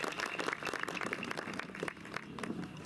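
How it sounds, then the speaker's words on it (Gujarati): An audience claps for Hitarth, the hero of the Gujarati film Bhamardo, at a promotional event in Sihor, producing faint, dense, continuous applause throughout. "એકવાર જોરદાર તાળી થવી જોઈએ હિતાર્થ માટે"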